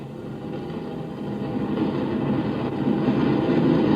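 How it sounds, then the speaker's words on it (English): Spaceship motors revving up in an old-time radio comedy sound effect, a steady low rumbling drone with a rolling, rail-like clatter that slowly swells louder over several seconds, with no voices. "The motors are revving up now, Malish."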